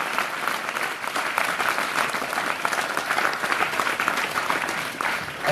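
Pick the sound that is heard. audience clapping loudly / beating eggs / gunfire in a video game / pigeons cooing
audience clapping loudly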